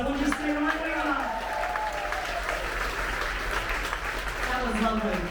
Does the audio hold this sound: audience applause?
yes